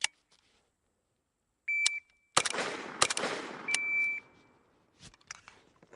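AK rifle shots fired in pairs on a timed 25-yard outdoor drill, sharp close cracks in quick succession with short echoing tails, followed by electronic shot-timer beeps.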